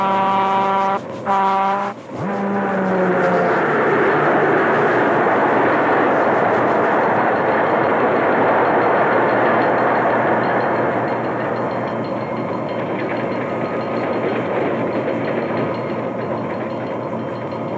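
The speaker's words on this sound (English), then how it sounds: "closes the throttle to slow down the train, for a sharp curve is just ahead" A Baltimore & Ohio passenger train from 1940 runs steadily with a loud, continuous rolling roar. A brief tonal blast opens it before the engineer closes the throttle ahead of a sharp curve.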